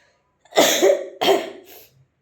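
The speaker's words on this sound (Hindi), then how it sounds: "सर्दी जुकाम हो गई है तो खांसी आ रही है" Two harsh, hoarse coughs from a person with a cold, close to the mic, one right after the other, then a faint trailing breath.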